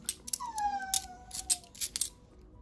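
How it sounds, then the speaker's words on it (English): A dog gives a high, drawn-out whine that slides downward, broken up by several short sharp barks before and after, close by and loud in a quiet room. "he's whining and wanting to be in there, but he's doing too much barking"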